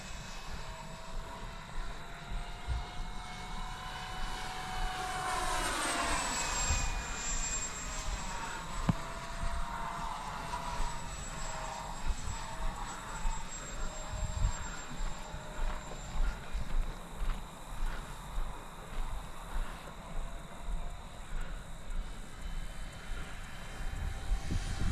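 A T-7A model jet with an 80mm electric ducted fan, flown as a radio-controlled aircraft, whines steadily overhead, its pitch sweeping as it passes and fading into a sustained whoosh over continuous outdoor noise.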